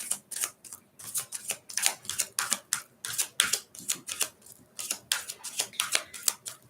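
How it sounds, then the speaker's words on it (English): A deck of tarot cards is shuffled in a series of quick, crisp, clattering bursts at an uneven rhythm, close and fairly loud, with no talking. "one more shuffle, please"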